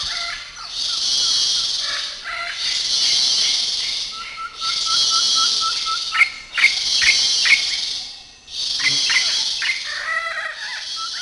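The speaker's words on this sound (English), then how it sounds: "That's the sound of the monkeys, parrots, and insects hidden among the dense canopy of the forest." Dense layered Belize jungle chorus of monkeys, parrots and insects: a shrill, pulsing insect buzz in repeated waves, with chirping bird calls and squawks scattered beneath.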